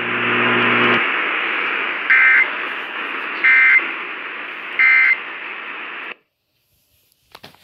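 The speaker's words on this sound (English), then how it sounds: "That was the first tornado warning of the night, issued by Nashville." EAS tornado warning alert tone received on a phone during a Nashville-area storm night: a steady loud electronic alarm tone with three repeated brighter beeps stacked over it, then it cuts off abruptly into silence with a few faint clicks.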